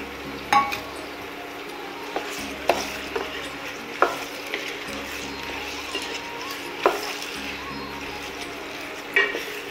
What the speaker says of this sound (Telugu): టమాటాలు వేసిన తర్వాత మంచిగా కలుపుకుందాము.